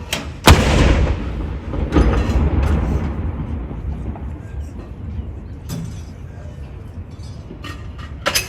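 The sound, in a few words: Royal Artillery gun salute firing at Edinburgh Castle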